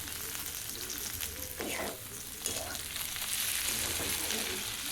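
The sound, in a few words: onion and fresh peas frying in pan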